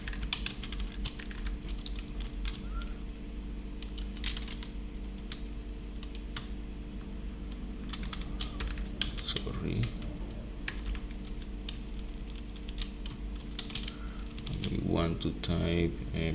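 Computer keyboard keys clatter in quick irregular bursts while a C++ program is typed, close and fairly faint over a steady background hum, with a short louder flurry of keystrokes near the end.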